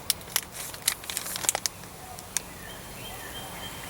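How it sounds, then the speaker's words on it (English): An MRE flameless ration heater gives a soft, steady fizzing hiss with scattered crackles and pops, busiest early on before settling into a faint continuous sizzle; no voices. "Still fizzing, you can hear it fizzing."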